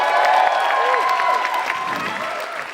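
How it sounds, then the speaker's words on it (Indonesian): Audience applause and crowd noise for stand-up comedian Akbar at a comedy show, a steady loud wash of clapping with some cheering, while a voice talks over it throughout. "Tepuk tangan sekali lagi untuk"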